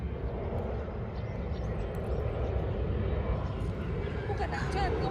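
An airplane drones overhead as a steady low rumble that lasts throughout, with people talking nearby.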